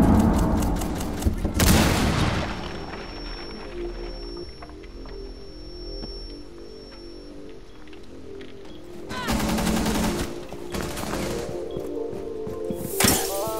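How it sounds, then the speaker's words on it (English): A breach charge blasts in a video game, then gunfire follows: a loud burst near the start, a quieter stretch of scattered shots and a high whine, then more heavy bursts of close automatic fire and booms toward the end. "Second breach charge."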